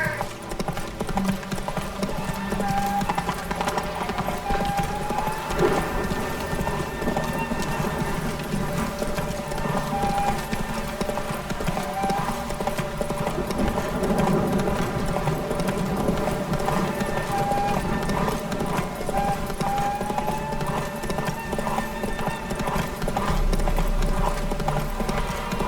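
Horse hooves clip-clopping at a steady galloping rhythm in The Witcher 3 during a race, with occasional whinnies and game music playing continuously underneath, moderately loud and close.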